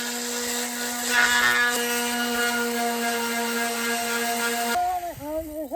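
An orbital sander fitted with 80 grit sandpaper works a van roof, a loud steady tonal whine with a gritty scraping texture that cuts off and winds down near the end.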